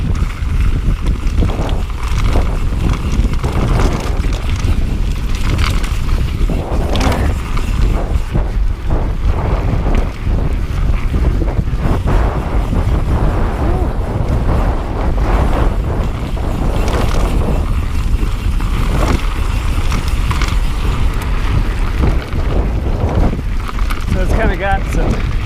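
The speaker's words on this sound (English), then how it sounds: "lots of wind exposure up here" Strong wind buffeting a microphone on an exposed mountain biking trail at 18 Road in Fruita, Colorado, a loud continuous roar with gusty rises and dips, mixed with rolling tire and trail noise.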